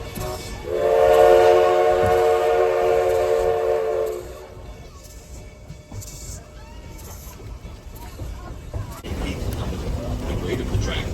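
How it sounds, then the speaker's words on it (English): The 1880 Train in South Dakota rolls along its steep-grade track, a loud sustained horn-like tone with rail rumble for about three seconds, then quieter running noise and clatter, with a voice speaking underneath. "enjoy your ride aboard the 1880 train"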